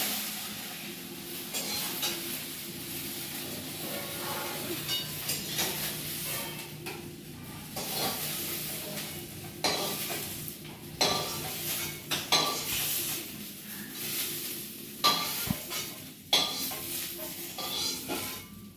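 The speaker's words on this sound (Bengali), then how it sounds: "ভেন্ডিগুলো আমি একটু হালকা করে ভেজে দেবো তো কড়াইয়ের তেল দিয়ে ভেন্ডিগুলো আমি দিয়ে দিয়েছি" Okra (bhindi) shallow-frying in oil in a kadai, a soft sizzle under frequent metallic scrapes and clinks of a spatula stirring against the wok, growing busier and louder toward the end.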